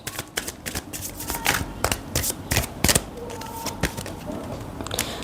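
Oracle cards being shuffled by hand, a run of crisp riffling flicks and soft papery slaps, close and fairly quiet, with no talking.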